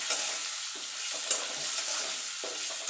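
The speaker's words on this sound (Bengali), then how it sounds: "এবার দিয়ে একটু নাড়াচাড়া করে নেব" Lentil tempering with turmeric powder stirred in a hot pan for tangy hog plum dal, a bright continuous sizzle close up with a few light spoon scrapes and taps.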